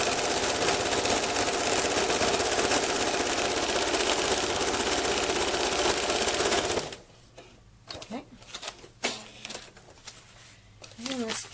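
A sewing machine stitching a quilt block runs steadily and loudly for several seconds, then stops, leaving quieter handling noises and scattered clicks.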